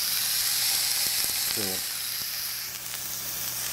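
Marinated pork tenderloin sears in a hot pan, giving a loud, even, continuous sizzling hiss up close, with a brief voice cutting in midway.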